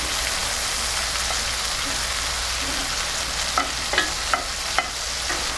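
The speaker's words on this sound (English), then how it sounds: "you'll start to see the butter actually brown up a little bit" A deer steak fries in a pan while being basted with brown butter, giving a steady close sizzle with a few sharp spoon-and-pan clinks near the end.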